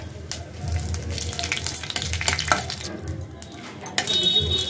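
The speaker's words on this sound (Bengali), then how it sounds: "ফোড়নটা ভালো করে ভাজা ভাজা করতে দেব" Cumin seeds and dried red chillies fry in hot oil, a busy sizzle mixed with clattering stirs and pan scrapes, close and fairly loud.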